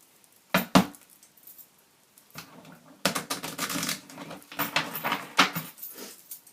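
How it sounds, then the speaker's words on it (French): Tarot cards being shuffled by hand, heard as separate bursts of crisp riffling and clattering card noise with short quiet gaps between them, close and alone. "On mélange, on mélange, on mélange."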